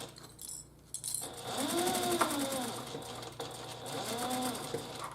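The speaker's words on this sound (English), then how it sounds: "you're going to sew all the way to that first line that you drew" A sewing machine runs in steady bursts while stitching a zipper on a handbag, a close rapid mechanical whir with brief stops, and a voice speaks softly underneath.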